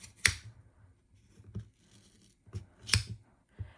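Scissors cut through thick crochet yarn with several crisp snips at uneven intervals, close and fairly quiet, with soft handling noise in between.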